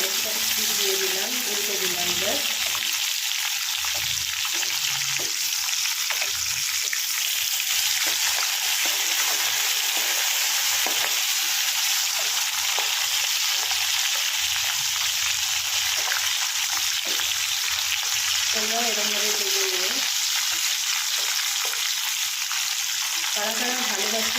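Loud, steady sizzling of crab frying in a very hot wok over high flame, continuous throughout with faint stirring noises underneath.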